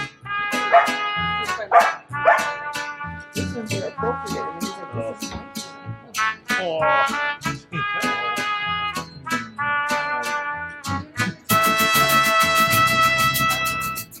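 Dogs up for adoption bark and yip in rapid, close, loud bursts, with a whimper mixed in, while people talk over and around them.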